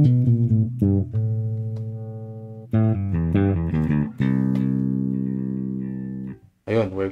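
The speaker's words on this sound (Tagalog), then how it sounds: "testing natin yung tone knob niya." An SX Vintage Series five-string jazz bass plays loud notes and short phrases with several sustained ringing notes between them as its tone knob is tested. The playing stops and restarts briefly near the end, with no talking.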